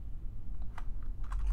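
Keystrokes on a computer keyboard, a handful of soft, irregular clicks tapped out faintly over low background hum.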